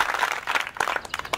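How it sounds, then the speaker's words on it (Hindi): An audience applauds Suresh with scattered hand clapping: a fairly brief, moderately loud burst of overlapping claps with no voices over it. "सुरेश के लिए आप लोग सब तालियां बजाएंगे।"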